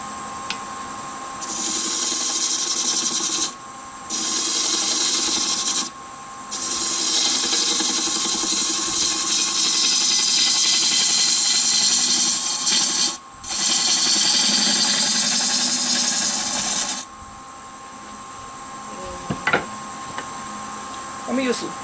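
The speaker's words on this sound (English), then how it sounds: "I'm going to start at about 650 RPMs, and I'm going to start with a 5/8 shallow gouge." A wood lathe spins a maple blank at about 650 RPM as a 5/8 shallow gouge cuts, making a loud, continuous shearing rasp in long passes separated by brief pauses, then the lathe hum alone.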